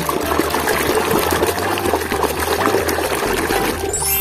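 A toy being washed under running water, a continuous splashing trickle and pour that stays loud and close throughout, with no one talking.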